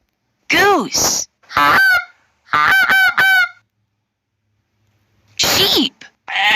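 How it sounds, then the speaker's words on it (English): A farm goose honks loudly and close, in repeated honking calls with a pause before a final pair of honks. "Goose."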